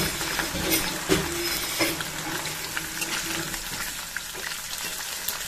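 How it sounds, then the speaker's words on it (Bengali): Rohu fish pieces rubbed with salt and turmeric fry in a pan with a steady broadband sizzle, a few louder spits and clatters near the start, no talk over it. "তো এখন আমি মাছগুলো ভাজছি"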